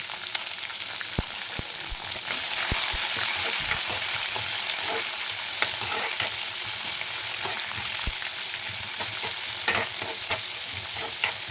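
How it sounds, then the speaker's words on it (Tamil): Ginger and garlic fry with sliced onion in a pan for mutton gravy, giving a close, steady sizzle broken by the light clicks and scrapes of stirring. "இது கூட இஞ்சி பூண்டு இதையும் போட்டுடுவோம் போட்டுட்டு வதக்குங்க"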